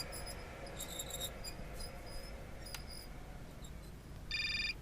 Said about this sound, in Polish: O, telefon Ire znowu dzwoni.